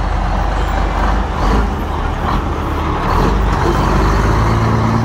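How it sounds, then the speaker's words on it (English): An old Mack log truck rumbles close by with a heavy, steady diesel drone, a loud low engine roar that holds throughout with slight surges. "That's a fine log truck there."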